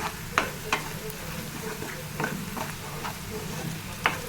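Onions, golden-fried in a pan, crackle with added chilli powder and garam masala for a broad bean curry, a close steady sizzle punctuated by scattered soft scrapes and knocks of a stirring spoon.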